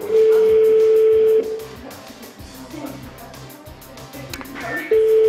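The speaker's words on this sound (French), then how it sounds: "Ça sonne." A telephone on the line rings out as a long, steady tone, pauses, then starts again. Studio noise and talk sit underneath.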